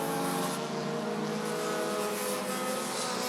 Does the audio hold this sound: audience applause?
no